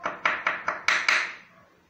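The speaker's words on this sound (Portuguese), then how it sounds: "cortar bem cortadinho, casca de cenoura, casca de batata, banana, até casca de alho pode botar junto aqui" Knife chopping carrot and potato peels, banana peel and old garlic skins on a board for homemade plant fertilizer, six quick separate thuds in a steady rhythm, close and fairly loud with no talk.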